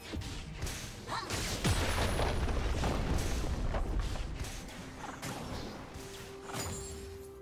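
A turret being destroyed in the League of Legends video game: crashing, booming impacts and whooshes bunched in the first few seconds, easing into quieter game effects with a brief tone near the end.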